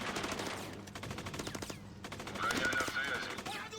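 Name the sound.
machine gun fire in a video game (MWM 2.0)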